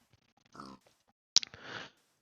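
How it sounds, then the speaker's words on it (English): Two short, low grunts from a game pig, separated by a pause, with a sharp click between them. "Is that a creeper? Oh no, it's a pig."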